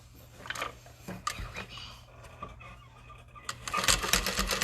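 A sewing machine runs in short bursts while topstitching the exterior side panels of a fabric tote bag, its soft whirring broken by pauses and handling rustles, with a quiet hum underneath.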